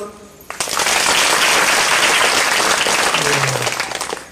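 An audience claps together as a mark of respect, a sudden burst of dense applause that sets in after a quiet start and holds steady at full strength before easing slightly, with a voice briefly audible near the end.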